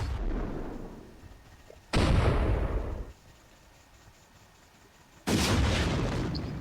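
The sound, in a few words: explosion in a video game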